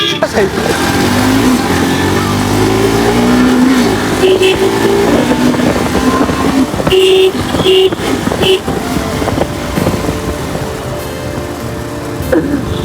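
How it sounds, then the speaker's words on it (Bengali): Yamaha FZ 250 motorcycles, one with an open air filter and one with no exhaust, rumble loudly nearby with rising revs and engine whine, while people talk over the noise. "দুটো FZ না, তার মানে পুরো সাউন্ডটা পুরো এক্সজোসের মতন, বাট একটা ফিল্টার খোলা আর একটাই এক্সজোসই নেই"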